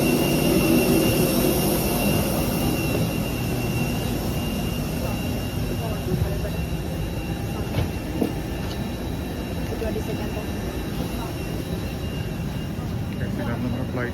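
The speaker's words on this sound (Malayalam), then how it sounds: "ഇതാണ് നമ്മുടെ ഫ്ലൈറ്റ്, മാൽദീവൻ എയർലൈൻസ്" Steady jet engine roar of a Maldivian Airlines Airbus aircraft during boarding, a continuous loud broadband hum with a high whine that persists unchanged throughout, heard from close by.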